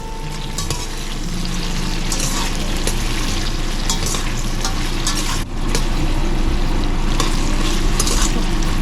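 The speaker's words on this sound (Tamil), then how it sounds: "அதில் கொஞ்சமாக உப்பு சேர்த்துட்டு நல்லா வறுத்து வைக்க போகிறேன்." Steady loud sizzling of onions frying in a pan with a little salt for mutton biryani, with occasional stirring scrapes, continuous throughout.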